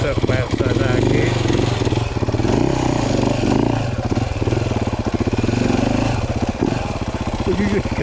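A dirt bike engine chugs and putters steadily up close, its rhythmic pulsing running throughout while a person talks over it.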